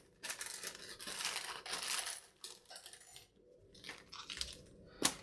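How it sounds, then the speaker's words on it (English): A plastic parts bag for an FPV wing build, holding servo horns, Velcro and linkages, is ripped open by hand. It makes a close series of sharp crinkling, tearing bursts over several seconds, pauses briefly, and ends with one final crisp snap. "I'm gonna rip this open."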